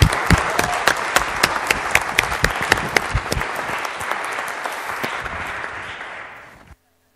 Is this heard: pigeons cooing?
no